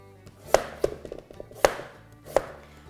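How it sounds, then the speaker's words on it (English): A knife chopping a peeled butternut squash into small chunks on a board, four sharp close thunks at uneven intervals with quiet pauses between, no talking. "I've peeled this delicious butternut squash. Now I'm just going to cut it into"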